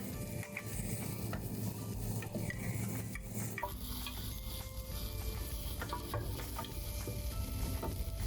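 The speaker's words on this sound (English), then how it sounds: "Use chopsticks to scrape the egg from the side of the pan, then roll it towards you." Chopsticks scrape and roll a Japanese egg roll in a hot frying pan, with soft clicks and scratches over a steady sizzle, close and continuous.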